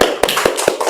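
A classroom group claps hands in a brief burst of about five sharp, evenly spaced claps, close and fairly loud.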